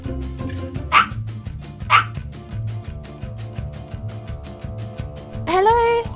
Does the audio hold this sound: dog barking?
yes